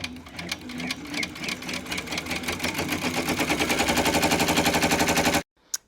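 An embroidery sewing machine stitches a tack-down line through fabric, producing a loud, rapid mechanical rattle of needle strokes that speeds into an even, dense rhythm before stopping abruptly.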